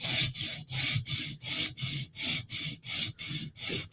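A Spyderco knife edge is drawn across a sharpening stone in about ten regular, even rasping strokes, each one close and crisp with no voices.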